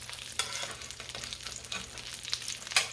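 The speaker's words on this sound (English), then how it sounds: "So let's flip the next one." Catfish pieces pan frying and being flipped: steady close sizzle and spatter of hot oil with occasional sharper pops and scraping clicks from the turning, no talk.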